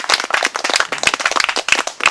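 Brief burst of audience clapping after a story reading, dense and close, with sharp individual claps in an uneven rhythm and no talking.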